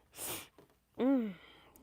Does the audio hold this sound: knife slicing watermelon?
no